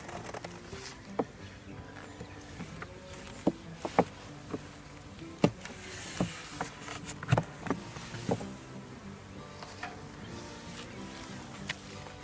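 Honey bees buzz around an open, smoked hive, a faint, busy hum with scattered soft taps and knocks over it and no speech.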